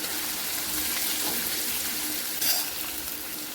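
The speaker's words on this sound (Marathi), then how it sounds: "हा कांदा टाकून घ्यायचा आहे फोडणीमध्ये." Finely chopped onion fries in a ginger-garlic tempering for a drumstick-pod bhaji, giving a steady, close, loud sizzling hiss with a brief brighter spatter near the end.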